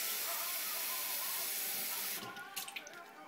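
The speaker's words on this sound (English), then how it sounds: "To that I'm gonna add 2 cups of water." Water runs steadily into a pan as the base for sugar syrup, a continuous hissing pour that fills most of the span before breaking into a few splashy trickles and drips as it stops.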